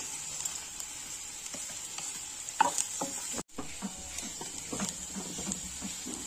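Browned onion with chopped garlic fries in a pan for a Bengali-style crab curry, giving a soft continuous sizzle with a few clacks from the spatula and a brief drop-out midway.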